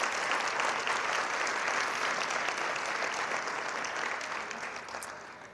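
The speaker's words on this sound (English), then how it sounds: "Round of applause for all the firefighters." A crowd at a city State of the City and employee recognition event applauds the firefighters, dense steady clapping that carries on throughout and tapers slightly toward the end.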